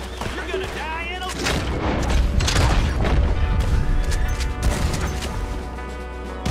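Shotgun blasts and heavy booms from Red Dead Redemption 2 ring out in a dense, loud stretch of gunfire and crashing mixed with background game sound, while a player talks over it.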